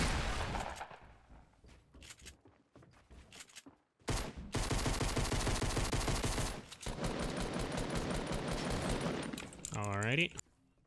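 A minigun fires in Fortnite Battle Royale in long, rapid, rattling bursts, cut by brief pauses. Other game sounds are mixed in, ending with a rising whirring sweep.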